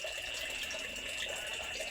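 A weak trickle of water runs steadily from a household tap in a home in Matnog during summer, a thin continuous hiss with no talk over it.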